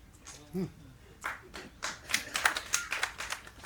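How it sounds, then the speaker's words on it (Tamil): A few audience members at a Tamil poetry speech clap in a scattered burst that starts sparse and then grows into a run of quick, uneven claps from a small crowd. "இப்படி ஒருத்தர் ரெண்டு பேர் கைதட்டுறீங்கல்ல"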